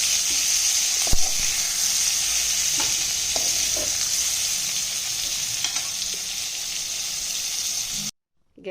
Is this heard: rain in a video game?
no